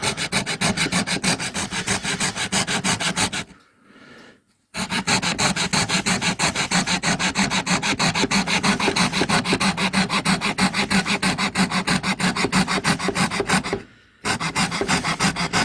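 A wooden piece for a table lamp is cut out with a saw. The strokes are fast and rhythmic, close and loud, with two short pauses partway through.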